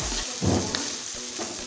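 Two dried red chillies dropped into hot oil with chopped onion and green chilli, giving a soft steady sizzle with a brief louder burst of frying, heard up close.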